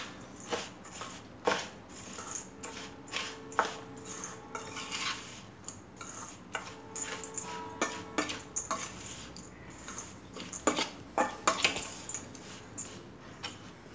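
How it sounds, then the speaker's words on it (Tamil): A spoon scrapes and clinks around a bowl, stirring a granola bar mix of nuts and dates in uneven strokes and taps, close and soft, with no voices. "இப்போ இது எல்லாத்தையும் மிக்ஸ் பண்ணிக்கலாம்."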